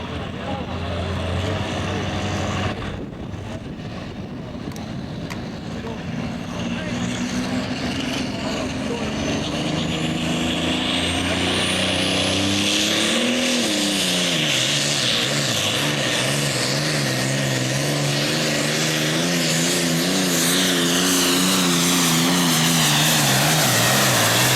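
A super farm tractor at a tractor pull roars loudly and continuously, its engine note rising as it launches and pulls hard, with a dense, harsh mechanical blare and a crowd-ambience wash underneath, and an announcer's voice in the mix.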